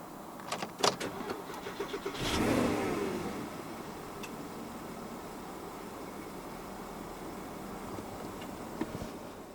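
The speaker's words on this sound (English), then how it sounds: "To start the Cayenne, insert the key into the slot right here. Put your foot on the brake, and then just twist the key." A 2008 Porsche Cayenne S started with the key: a few quiet clicks, a brief cranking surge as the engine catches, then a steady low idle settling in, close and fairly quiet.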